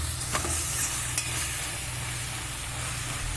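Chana leaf greens fry in oil with dried red chillies, a short burst of dense, even sizzling hiss with a couple of faint stirring taps.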